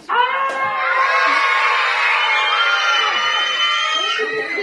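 A group of children shout together in a loud, sustained chorus that begins abruptly and holds steady for several seconds, close and energetic like a cheering crowd.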